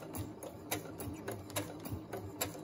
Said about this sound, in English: I'm just going to go straight down.